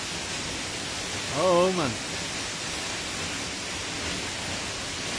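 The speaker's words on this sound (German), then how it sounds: "Das ist ein richtiges Naturschauspiel. Der Wildensteiner Wasserfall." Steady, broad rushing roar of the Wildensteiner waterfall, loud and constant throughout, with a man briefly exclaiming over it near the start.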